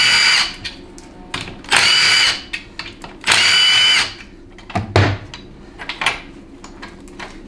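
A power tool whirs in several short, loud bursts as it backs out four 8mm bolts from the parking pawl guide plate of a Ford 6R140 transmission from a 6.7L Powerstroke, with light metallic clinks between the bursts.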